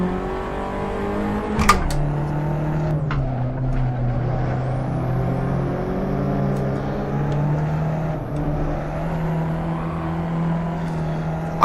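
Racing car engine in the Assetto Corsa sim, novice career series, humming steadily at mid revs with slow pitch shifts as gears change, plus a brief knock near the two-second mark; continuous, close and fairly loud, with no talking.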